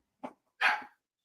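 Two sharp dog barks indoors, a short one followed by a longer, louder bark, with silence between and after.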